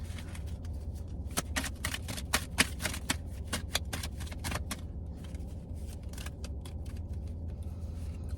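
Tarot cards shuffled in a quick run of crisp riffling slaps, close and fairly loud over a steady low background hum, then easing into lighter sporadic flicks.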